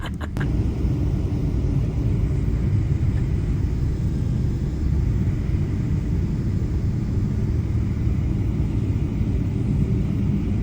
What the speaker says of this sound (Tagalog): eto na ang pinaka-hate na hate kong part ng pagsakay ng eroplano, ang pag-take off